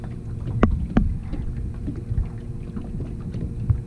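Outboard motor on a fishing boat searching for shad bait on Lake Eufaula, running as a steady low rumble with wind buffeting and a couple of sharp knocks near the start.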